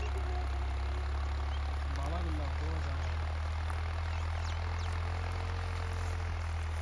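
A 3630 Super tractor engine runs at a steady, loud, droning idle close by, its low rumble unbroken throughout, with faint thin sounds over it.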